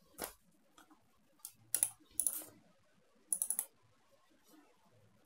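Someone types a file name on a computer keyboard, with scattered clusters of quiet key clicks in short bursts and pauses between them.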